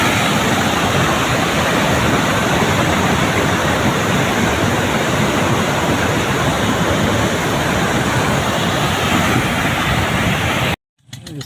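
Water rushing through the Chashma Right Bank Canal, a loud, dense, continuous roar of flowing water close by, cutting off abruptly near the end.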